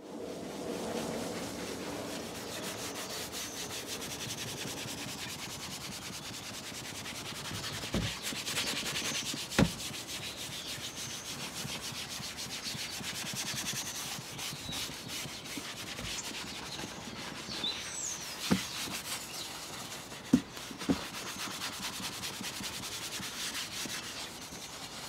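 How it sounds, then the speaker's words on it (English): A detailing brush scrubs the worn upholstery of a 25-year-old Nissan Figaro interior with a steady, close rubbing sound that runs the whole time, broken by a few sharp clicks and knocks. "it was thoroughly worked in with the detailing brush to help release any ingrained grime"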